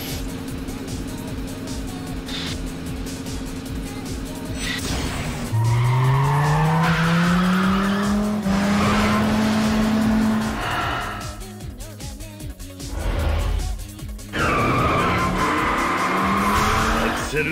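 A race car in a video game runs at full throttle with a loud engine drone, then its tires squeal in a long rising skid through a corner before the engine roars back on.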